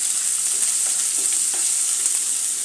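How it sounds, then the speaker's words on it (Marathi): Onion sautéing in hot oil with spluttered mustard seeds, garlic and cumin gives a continuous bright hiss, even and close, with faint stirring ticks underneath and no voices. "आता यामध्ये आपण एक छोटासा कांदा घालून घेत आहोत। कांदाही चांगला परतून घेऊया।"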